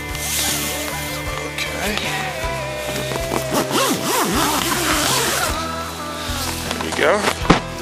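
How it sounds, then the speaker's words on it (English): A tent zipper is drawn shut during a canoe camping trip at Long Lake, New York, producing quick rasping pulls close by while voices and outdoor sounds carry on around it. "Let me just zip her up here."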